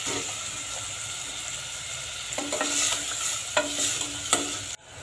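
Sliced onion sizzles steadily in hot oil with salt and turmeric, browning as it's stirred, with a few sharp scraping clicks of the spoon against the pan near the end.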